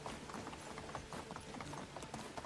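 Horse hooves clip-clopping at a fast pace through woods in Medieval Dynasty, a quick irregular run of soft thuds, faint and somewhat muffled.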